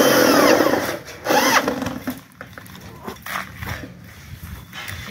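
A power tool fastens bolts on a light steel Taso roof truss about 8.2 meters long, giving loud close whirring bursts that rise and fade in short stretches, with scattered clanks in between.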